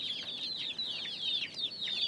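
White chickens on a Bangladeshi poultry and pigeon farm cluck in a steady, overlapping chorus of short, high calls that carry on throughout, with no talking.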